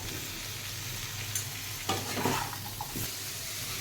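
Greens and tomato fry with cumin, turmeric, salt and sugar in a pan, a steady low sizzle with a few stirring scrapes and clinks near the end.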